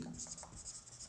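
A pen scratching across paper as the date is written by hand, a faint close scratchy rustle in short strokes lasting about a second.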